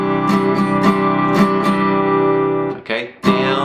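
Guitar strumming a chord in a steady down-down-up pattern for a song, several even strokes ringing close and clear, heard alone.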